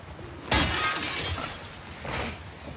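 Window glass shatters in The Last of Us Part II, one loud crash with a bright spray of breaking shards followed by a second, smaller tinkle of falling glass, no talk.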